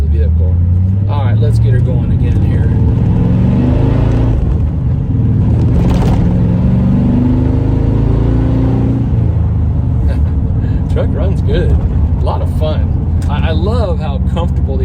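A 1998 Chevrolet K1500 pickup with a five-speed manual and about 80,000 miles pulls away, its engine droning loud and close, rising in pitch through the gears with brief dips between shifts, while someone talks over the cabin rumble.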